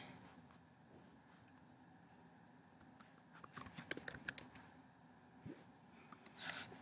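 Someone types on a computer keyboard, faint, scattered key clicks that start sparse and pick up into short uneven bursts of tapping, heard up close in a quiet room.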